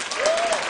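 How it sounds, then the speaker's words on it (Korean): An audience at a Korean TV variety show wedding segment breaks into applause, a brief dense patter of clapping with a faint voice or tone over it. "자, 여러분 박수 한번 주세요."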